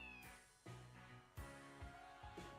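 Cat meowing in the video game Trails to Azure: a few separate meows, fairly close and clear, with no talk over them.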